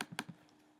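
A few quick key taps on a computer keyboard while entering text in a design program, close and fairly quiet, with short clustered clicks and a final tap after a pause.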